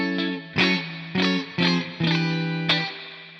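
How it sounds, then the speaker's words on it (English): Guitar through a modelled amp in AmpliTube 5 MAX, on the same amp at its default setting with heavy spring reverb: five strummed chords, loud and close, each ringing and splashing into a long reverb tail, no talk. "There's that spring reverb that's just too much."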